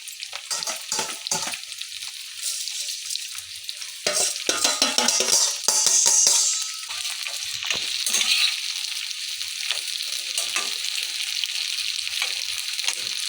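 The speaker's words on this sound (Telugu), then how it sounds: "ఇది ఫస్ట్ వేయించుదాం." Ripe orange chillies, washed, wiped and cut, frying for a chilli pickle, with a steady bright sizzle of hot oil and occasional stirring scrapes, close and continuous throughout.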